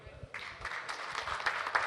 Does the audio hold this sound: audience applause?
yes